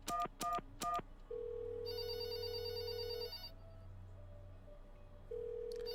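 Old-fashioned telephone bell ringing in the puzzle video game There Is No Game: three quick loud bell bursts, then a sustained electronic ring tone and a high buzzing chime over low background hum, no talking.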